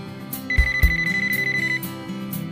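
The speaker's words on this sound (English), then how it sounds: "you'll never have to scramble to find a ringing cordless handset" A VTech CS6649 cordless phone handset rings with a bright, warbling electronic trill that repeats quickly over a low background bed, fairly loud and close.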